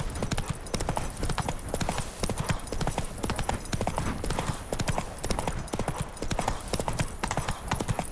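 Horse Roach galloping in The Witcher 3, hooves clip-clopping in a steady, fast, close rhythm throughout, with an occasional faint whinny.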